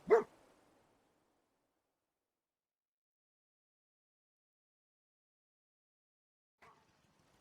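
A dog in the video game Fallout 4 gives a single sharp bark at the start, then a long silence before a faint, short second bark near the end.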